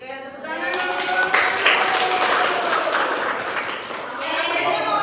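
An audience claps during a student-teacher practice class, a few seconds of moderately loud, continuous clapping with some voices underneath.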